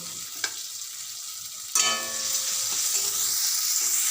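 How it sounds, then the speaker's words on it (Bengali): Onion, garlic and ginger pastes fry in oil with cumin powder. After a short quiet stretch the sizzle jumps suddenly loud, then holds as a dense, close hiss with light stirring. "পেঁয়াজ বাটা রসুন বাটা আদা বাটা জিরে গুঁড়ো দিয়ে ভালো করে কষে নেব"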